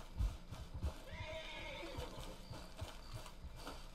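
A horse in the video game Red Dead Redemption 2 whinnies over a few soft hoof clip-clops, the neigh rising in the middle and the hooves thudding faintly, with no one speaking.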